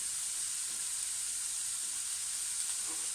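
Onions sweat in a pan with a soft, steady sizzle, a faint even hiss with no talking.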